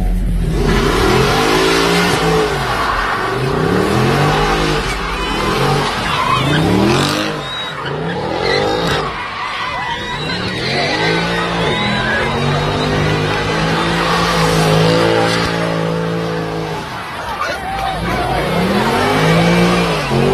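An AMG car spins at an airport roundabout in Ghana, its engine revving hard and rising and falling in repeated loud surges while tires squeal and skid throughout, with faint voices in the background.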